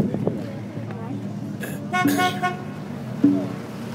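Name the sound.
car horns honking in support of street demonstration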